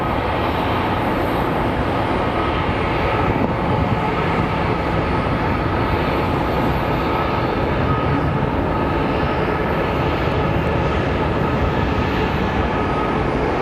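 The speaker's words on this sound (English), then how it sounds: "you're going to get another line of American Airlines planes coming in" American Airlines airliners move around the gates at Phoenix Sky Harbor Airport, a constant heavy jet engine roar blanketing the scene, steady and unbroken for over thirteen seconds with no talk.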